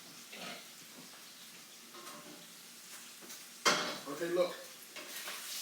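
Bacon and garlic fry in a pan while sweet corn is being cooked, giving a faint sizzle under scattered utensil scrapes and clatter, with a louder clank partway through and a brief spoken remark.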